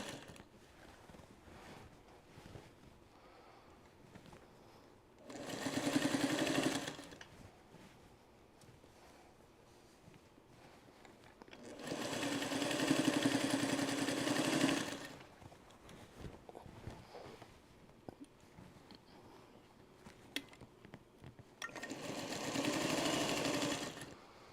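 A sewing machine runs in three separate bursts of several seconds each, machine-stitching binding onto a Trellis Garden quilt, with quiet pauses between runs.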